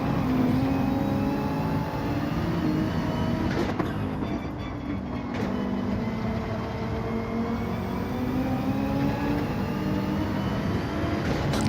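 A Gr.3 race car in Gran Turismo 7 on Trial Mountain, its engine droning loudly and steadily as revs rise and fall through the gears, with a brief dip in the middle.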